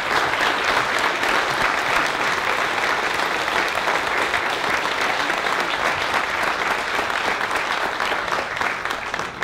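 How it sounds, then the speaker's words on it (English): A large audience applauds steadily for the competitors at a town crier competition during a Tulip Time festival, a dense, sustained wash of clapping that holds at full strength for the whole stretch with no talk over it. "Let's have a round of applause for all of our competitors,"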